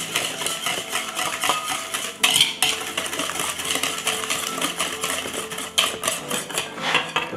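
Pancake batter with sugar is stirred in a bowl, with quick repeated clinks and scrapes of a utensil against the bowl and a few sharper knocks, close and steady.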